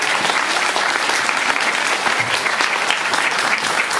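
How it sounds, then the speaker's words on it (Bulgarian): A church congregation claps together in steady, dense applause that runs for the full four seconds, loud and close, without any talk over it. "Нека да пляскаме на Господа."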